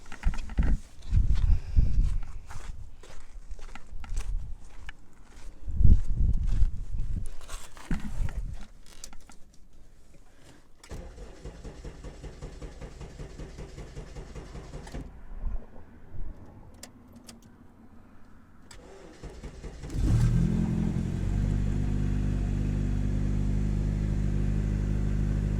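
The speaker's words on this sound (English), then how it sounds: "Now I may start the vehicle." A Honda Civic EK with a swapped K24 crate engine gives a few clicks and clunks, then fires up with a sudden loud rumble and settles into a steady, close idle. No one speaks.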